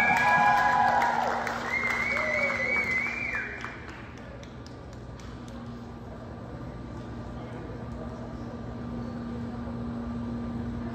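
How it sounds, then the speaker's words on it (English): A volleyball gym crowd gives a round of applause. The clapping is moderate and mixed with whistle-like tones and chatter for about four seconds, then gives way to a low, steady hum with scattered sounds. "But we just want to give y'all a round of applause."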